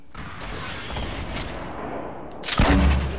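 Gunfire in a Fortnite Battle Royale squad match: loud, sharp shots and dense bursts of fire, with a heavier, closer blast near the end.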